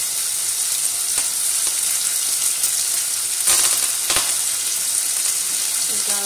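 A steak fries in a hot pan with thyme, giving a loud, continuous sizzle broken by a few sharp crackles and pops.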